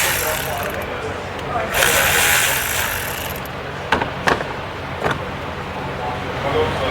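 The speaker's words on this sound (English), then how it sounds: "So now we're gonna remove this bolt over here." A ratchet wrench loosens a bolt on an engine bracket of a Mercedes E350, with short clicking bursts and a few sharp metallic knocks close by under a low background hum.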